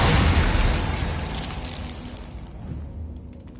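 Glacius ice spell cast in Hogwarts Legacy, a loud crackling burst with a shattering, icy edge that decays over a few seconds into fainter crackles and tinkling fragments, no talk.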